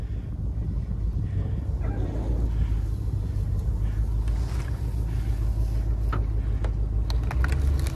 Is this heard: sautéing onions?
no